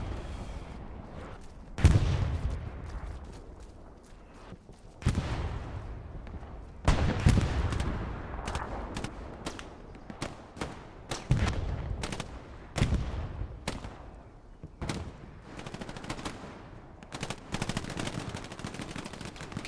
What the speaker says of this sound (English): Artillery falling around the hard cap.